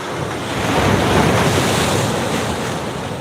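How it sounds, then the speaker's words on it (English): Ocean swell rolls in with a broad, loud wash of surf that rises and slowly recedes, mixed with gusty wind buffeting the microphone and no voices. "Here's a little swell coming in."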